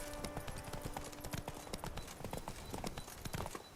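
Horse hooves clip-clop at a steady trot in the video game The Witcher 3: Wild Hunt, a rhythmic run of crisp hoofbeats heard fairly close, with faint ambient game sound underneath.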